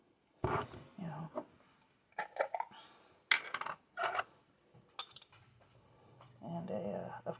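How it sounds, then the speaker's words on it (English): Rice is stirred with onion powder in a dish, giving scattered light clinks and scrapes of a utensil against the bowl, close and fairly quiet, with pauses between strokes. "I kind of mix it into the rice."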